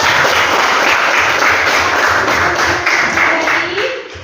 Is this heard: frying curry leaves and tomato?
no